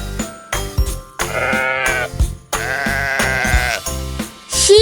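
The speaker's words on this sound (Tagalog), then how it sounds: "Sheep." Sheep bleat in a series of loud, close, wavering cries broken by short pauses, several calls overlapping near the end.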